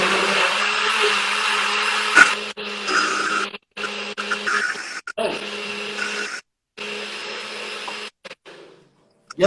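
A blender whirs steadily while pappardelle dough is made, with a loud motor drone broken by several brief stops and restarts, and a faint clatter near the end.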